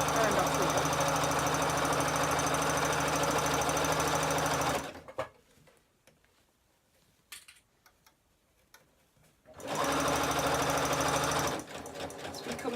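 A Butterick EB 6100 sewing machine stitching a simple bag: a loud, fast mechanical whir runs for several seconds, stops for a quiet pause with a few small clicks, then starts again near the end.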